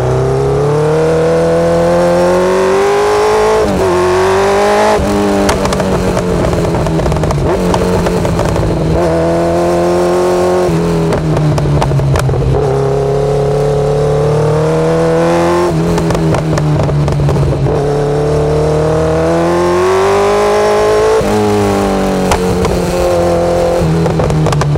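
A Kawasaki Z900 motorcycle with a full exhaust revs hard and loud over and over, its engine pitch climbing and falling in repeated sweeps with crackling pops, close and continuous for the whole stretch with no voices.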